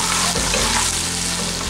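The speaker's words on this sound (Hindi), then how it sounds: "आपने इसके अंदर 1-2 डोई तेल डाल दिया, 2 डोई तेल। अब आप इसमें प्याज डाल लें" Onions fry in a couple of spoonfuls of hot oil in a pan for a Punjabi mustard-greens dish, giving a loud, continuous crackling sizzle up close with no talk.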